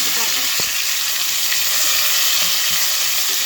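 Tomatoes go into a hot pan of browned ingredients for a chicken lollipop sauce, giving a steady, close, loud sizzle with a few stirring scrapes and knocks.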